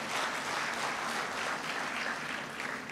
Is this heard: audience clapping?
yes